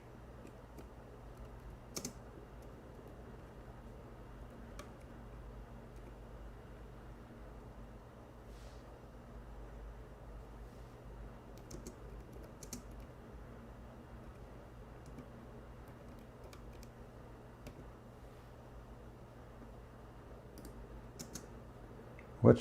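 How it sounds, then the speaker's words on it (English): Faint, sporadic clicks of typing on a computer keyboard, with scattered keystrokes over a quiet, steady background hum and no voices. "I'm typing in English."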